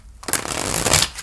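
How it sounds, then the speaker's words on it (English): Tarot cards shuffled by hand in one quick, close riffle of papery flutter and snaps lasting about a second. "Let's give that another shuffle."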